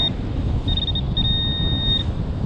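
On a beach after Hurricane Ian, a metal detector held over a buried target gives a high, clear electronic tone that breaks once and then rings steadily for about a second, over rough wind-like noise.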